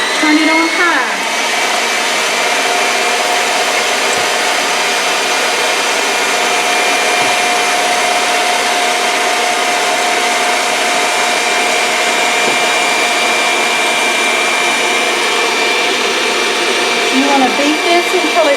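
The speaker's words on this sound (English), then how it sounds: "I'm going to put them in my mixer here, and I'm going to turn it on high." An electric mixer whines steadily on high speed as it beats three egg whites toward stiff peaks for banana pudding, a continuous even motor drone that persists throughout.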